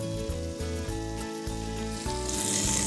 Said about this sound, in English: Don't be afraid to let it sit in the pan, because it wants to caramelise